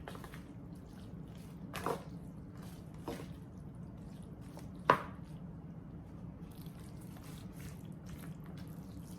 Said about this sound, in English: I just mix it up real good before I put my other ingredients in